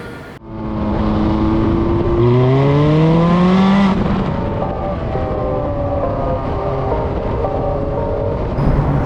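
A Ferrari F430 Scuderia 16M engine revs loud and close, its pitch sweeping upward through the gears. It then drops back to a steadier high-revving drone while the car drives.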